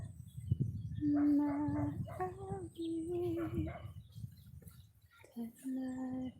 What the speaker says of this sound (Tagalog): Sa umaga maririnig ang ibon